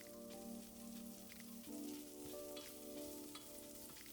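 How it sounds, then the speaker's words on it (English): Minced shallots and dried shrimp saute in hot oil in a pot for an Egyptian spinach soup, giving a soft, steady sizzle heard close up with a few brief scrapes of stirring and a faint background tone. "drop in our minced shallots. I'm gonna saute this for just a minute or until fragrant"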